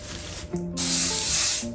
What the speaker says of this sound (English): Nice light spray.